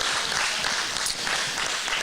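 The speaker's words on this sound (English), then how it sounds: "Let's give her a round of applause." Audience applause for a women's player at a qualifier match, a steady dense wash of clapping that holds evenly throughout, fairly loud with no clear talk over it.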